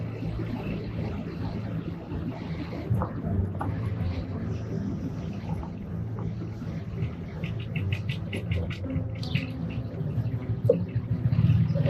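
A 2021 Piaggio MP3 500 three-wheeled motorcycle riding along a road, with a continuous engine drone and wind rumble, close and steady throughout, its tone shifting slightly toward the end.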